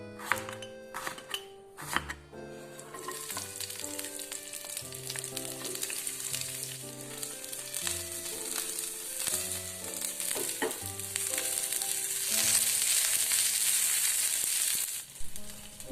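Shallots, garlic and onion sautéing in a little oil, a steady close sizzle with stirring clinks, growing louder and hissier toward the end over a background of tonal notes.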